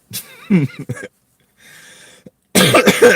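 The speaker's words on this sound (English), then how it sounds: "So I got a bit of a cough here." Someone talks, then coughs a few times. A short quiet pause is followed by more speech.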